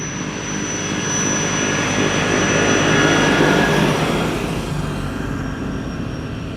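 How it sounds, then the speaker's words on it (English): An airport tractor at Amsterdam Schiphol produces a broad, steady engine roar with a thin high whistle on top. The noise swells and stays loud throughout, and no one speaks over it. "Also coming in is a tractor, the noise of which you probably already picked up on the mic."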